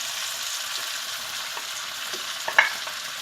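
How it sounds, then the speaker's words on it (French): Pre-cooked vegetables, courgette and red pepper among them, sizzling in a pan while being stirred together, a constant frying hiss with a few faint scrapes and a small clink near the end. "on mélange les légumes"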